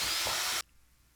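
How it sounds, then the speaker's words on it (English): A broadband whirring hiss of a power drill with a pilot bit drilling into a window frame, for about half a second before cutting off abruptly to near silence. "Take your drill and pilot bit and drill 3 holes at the back furthest corner of the"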